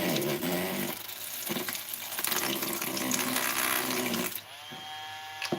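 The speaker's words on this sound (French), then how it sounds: "C'est de l'eau." Water runs from a kitchen tap in a steady, close splashing stream, shifting in tone as it hits a sink or vessel, then easing off near the end.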